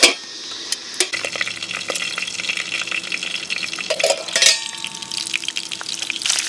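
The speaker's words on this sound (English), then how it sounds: "Sounds like our bacon is cooking pretty good in here." Bacon sizzles in a pan on a camp stove inside a van, a dense crackling hiss with a few metallic clanks and brief clatters, fairly close and continuous.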